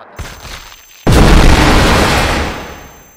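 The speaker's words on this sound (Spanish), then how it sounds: "Eso ha sido una explosión." A loud explosion booms in the Roblox game Broken Bones V, a sudden blast after faint rumbling that stays heavy and roaring for about two seconds before slowly fading.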